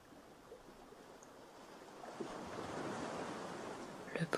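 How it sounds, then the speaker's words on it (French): Soft, steady wash of sea waves on a sandy beach at the close of a calm day, a broad rolling hiss that swells gradually louder, with a few faint clicks near the end. "Le bruit de la mer vous berce"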